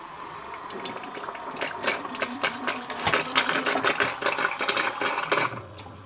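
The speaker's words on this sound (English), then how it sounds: "So the pump's certainly a success as far as pumping oil goes." Homemade oil pump for a DIY gas turbine project running steadily, a close, fast mechanical whirring and ticking clatter with continuous rhythmic pulses throughout.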